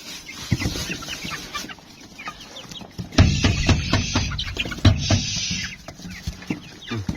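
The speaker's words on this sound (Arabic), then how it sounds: "شايفين طبعا دول الفراخ اللي كنا اشتريناها الأول اهي" Chickens, a young flock about two weeks in a backyard coop, clucking and squawking in overlapping bursts, close by, with a louder flurry of calls midway and rustling between.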